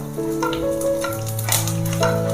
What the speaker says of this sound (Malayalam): പച്ചമുളക് ഇഞ്ചി എല്ലാം ഇട്ടൊന്ന് മൂപ്പിക്കാം